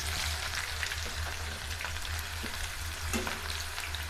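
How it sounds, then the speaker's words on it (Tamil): Chopped onions sizzle in hot oil in a kadai, a constant crackling fry with scattered pops and light stirring, close and steady with no talking. "நம்ம எடுத்து வச்சுருக்க அந்த நறுக்கி வச்சுருக்க வெங்காயத்தை இது கூட சேர்த்துக்கலாங்க."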